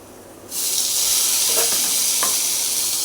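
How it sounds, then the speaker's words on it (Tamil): A pan suddenly erupts into a loud, steady sizzle as onions hit hot oil, with a couple of faint stirring scrapes underneath; no speech. "வெங்காயம் கொஞ்சம் வதங்கட்டும்"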